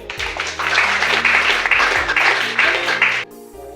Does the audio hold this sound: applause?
yes